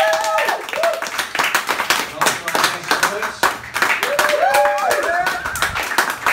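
Crowd clapping at a poetry open mic night in a bar in Leeds, a loud, close burst of many hands under sharp whoops and cheers, continuing for about six seconds.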